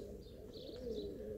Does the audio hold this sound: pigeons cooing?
yes